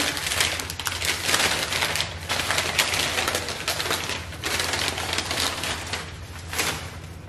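Mason jars with clamp lids being unwrapped from their packaging, a loud, continuous crinkling and rustling of wrapping material close by, with brief pauses between handling bursts and no talking.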